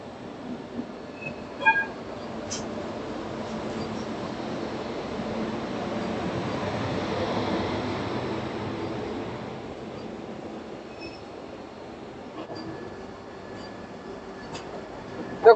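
Howrah–Raxaul Mithila Express rolling along, a steady low rumble of wheels and carriage noise heard from inside, with a few faint clicks and squeals, continuous and moderately loud.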